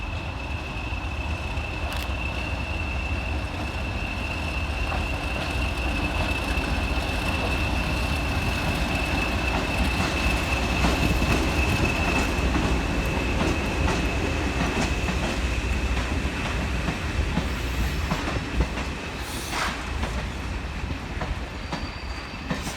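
Diesel locomotives D8107 and D8096 roll through Crewe station with a loud continuous rumble, rhythmic wheel clatter and a thin squeal, alone with no voices.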